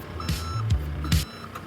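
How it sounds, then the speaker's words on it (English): A vehicle's reversing alarm beeps repeatedly in a steady rhythm over a low engine rumble, fairly close. "That's the sound the road sweeper makes to warn everyone that it's reversing."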